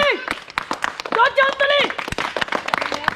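Brisk group clapping for the third-place contestant of a balloon-popping game, a chanting voice rising over the claps midway while the sharp, regular hand claps continue to the end.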